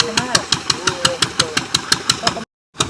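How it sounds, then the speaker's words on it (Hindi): Engines idling at a coal mine lease in Duki, Balochistan, a loud close, regular knocking chug with a pulse about every fifth of a second, before the sound cuts out abruptly. "इंजन स्टार्ट है सारे"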